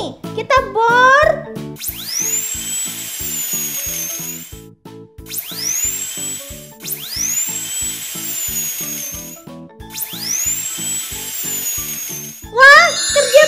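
A toy dental drill whirs in repeated bursts over a bouncy, rhythmic electronic tune, with playful chimes at the start and end, in a children's doll play scene.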